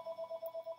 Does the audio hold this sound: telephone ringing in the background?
yes